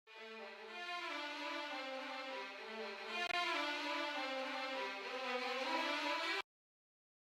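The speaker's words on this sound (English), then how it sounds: "from Orchestral Tools, the string runs patch, the manual one that you can play" Orchestral Tools string runs patch playing a lead line, a dense shimmering wash of fast overlapping string notes, sustained and fairly quiet, ending abruptly in silence near the end.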